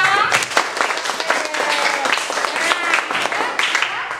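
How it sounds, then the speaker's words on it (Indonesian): Classroom of pupils clapping together at a teacher's request after a solar system lesson, a lively burst of many small hands with voices chattering and calling out through it. "Coba tepuk tangan untuk kita semua."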